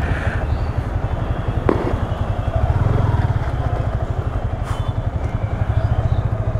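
A superbike motorcycle engine idles up close with a steady, loud, throbbing low rumble and fast regular pulsing, plus a few faint clicks and rattles over the top.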